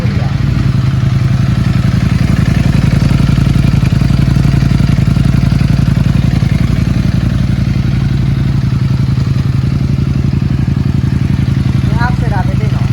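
A Ducati Panigale V4 S idles with a steady, deep, loud exhaust rumble that holds evenly throughout, with voices talking over it.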